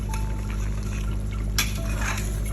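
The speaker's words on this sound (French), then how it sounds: "Je vais faire ma friture à la poêle tout doucement." Chicken wing pieces fry gently in a pan, a soft continuous sizzle up close, with clinks of utensils against the pan and a brighter burst of spattering midway.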